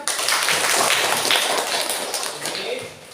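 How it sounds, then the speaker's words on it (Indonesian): Classroom of high school students applauding a classmate, a burst of scattered claps at moderate level that fades toward the end, with no voices over it. "Tepuk tangan untuk Herlen."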